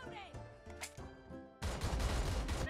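Pistol gunfire in a Turkish-played shooter video game, a dense burst of rapid shots and impacts crashing in loudly after a quieter stretch of game sounds.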